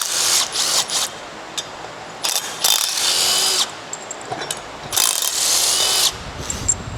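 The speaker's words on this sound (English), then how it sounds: "So we're gonna take a 10 millimeter on these 3 bolts." A ratchet or power tool works 10 mm bolts on a CFMOTO U10 clutch, sounding in several short, sharp whirring bursts with pauses between them, close up and fairly loud.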